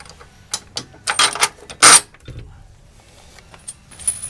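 Bolts, nuts and washers being fitted and fastened on a rear bumper step for a Mercedes Sprinter van, heard as close metallic clinks, rattles and ratchet clicks with a sharp loud clank midway, then quieter taps.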